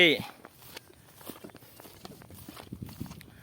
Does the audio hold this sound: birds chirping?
no